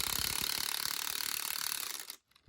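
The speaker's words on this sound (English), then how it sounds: "tighten these down just a little bit at a time, going back and forth from one post to the other" A ratchet wrench clicks rapidly and steadily, tightening the bolts of a spring compressor on a 2007 GMC Sierra strut, close and alone, then stops abruptly near the end.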